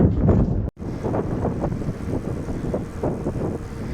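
Sahara desert wind buffets a microphone in loud gusty rumbles, broken by a brief drop to silence, then continuing in rough uneven bursts.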